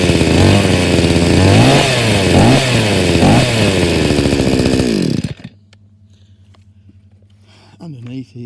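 A Morrison 45 cc chainsaw revs loudly and unevenly with rising and falling engine pitch, then cuts to a low steady idle before a brief rev near the end.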